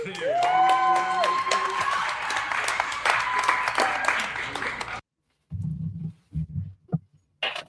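A dating-show audience breaks into loud applause and cheering, with whoops and a sustained tone over dense clapping for about five seconds, then it cuts off abruptly and a few brief muffled bursts follow.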